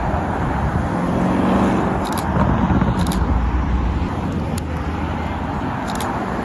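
A Lamborghini Urus S passes on a street, its engine rumble swelling over steady traffic noise before fading. A few sharp clicks sound in the background.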